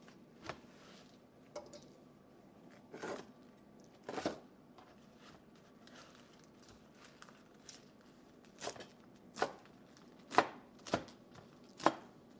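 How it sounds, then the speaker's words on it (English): A knife chops collard greens on a cutting board in a home kitchen, with a dozen or so crisp, irregular strokes, sparse at first and then coming in a quicker run of louder cuts near the end. Nobody speaks. "we're cutting up the collard greens"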